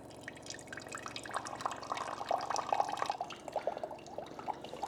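Hot water trickles and drips from the instant-hot spout of a VonWater C5 countertop reverse osmosis system, a close, uneven splashing stream with a low mechanical hum beneath it and no voices.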